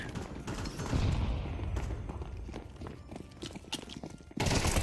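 Flashbang grenade and gunfire in a video game: loud, dense bursts of shots and thuds through most of the stretch, ending in a sharp blast.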